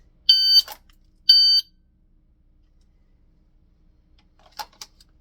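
An electronic shot timer sounds two sharp, clear beeps about a second apart during dry-fire draw practice, each followed by a quick click, then near silence and a couple of faint handling clicks.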